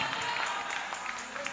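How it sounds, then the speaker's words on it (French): A church congregation claps loudly during a French and Swahili sermon, a brief, steady patter of many hands at moderate distance. "Est-ce qu'on peut applaudir très fort le Seigneur?"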